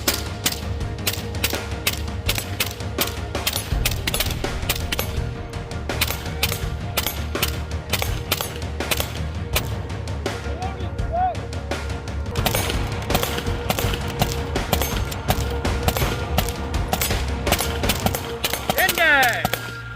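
Rapid, sustained gunfire from an 11.5-inch AR-15 rifle at an outdoor shooting drill, shots cracking steadily and densely throughout with overlapping reports from nearby shooters, while voices shout in the background.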